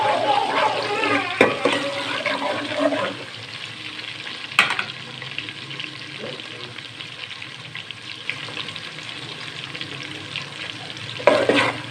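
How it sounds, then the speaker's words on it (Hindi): Onions frying in ghee for chicken nihari, a close, steady sizzle with occasional stirring clatter against the pot and someone talking over it at the start. "ये प्याज मैंने इसमें डाल दिए घी में, और इसको हम"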